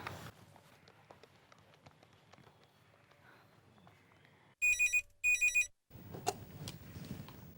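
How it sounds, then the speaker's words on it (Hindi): A telephone rings while a call home is placed, two short bursts of electronic ringing that stand out sharply after a quiet stretch of faint room noise. "मैं सोच रही थी कि घर पर एक फ़ोन कर लूँ।"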